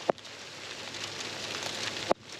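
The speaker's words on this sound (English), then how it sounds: "What kind of idiot stands out in a hailstorm in the middle of a road?" Hail falling steadily onto a road during a hailstorm, a dense continuous hiss of pelting ice with two sharp louder impacts near the start and end, heard alone without talk.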